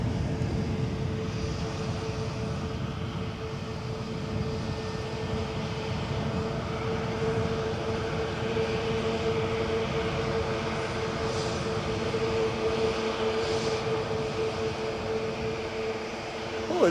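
A KLM airliner taxis at Edinburgh Airport, its engines a steady, moderately distant drone that holds evenly throughout, with a faint tonal whine on top.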